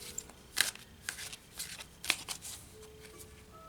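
Tarot cards are shuffled by hand in several quick riffling bursts, close and crisp, with short pauses between them in a quiet room.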